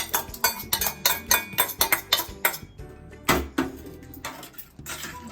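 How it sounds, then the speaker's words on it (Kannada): A metal spoon stirs cooked lentils into a pot of soft leafy greens for soppina huli, making close, rhythmic clinks and scrapes against the pot. "ಎಲ್ಲ ಚೆನ್ನಾಗಿ ಕೆದಕಬೇಕು."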